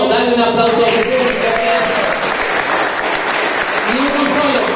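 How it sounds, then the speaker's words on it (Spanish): Loud, sustained applause from a crowd, dense and steady throughout, with a voice speaking over the clapping. "Dale un aplauso a Jesús."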